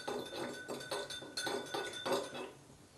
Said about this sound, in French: je dilue mon sel dans l'eau